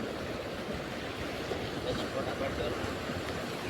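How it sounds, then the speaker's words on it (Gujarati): Sea waves wash against the shore beside the seaside Bhabhata temple in a steady, broad roar of surf mixed with wind rumble, with a faint voice in the background. "આ છે દરિયો આપણે ને દરિયાની કાંઠે છે બાપાતાનું મંદિર"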